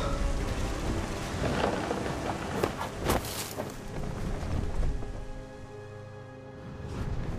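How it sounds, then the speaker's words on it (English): Thunderstorm in the video game What Remains of Edith Finch: dense, steady rain hiss with deep rolling thunder rumbles and a couple of sharper cracks, loud and enveloping throughout. "The thunder sounded much too close and full of angry power."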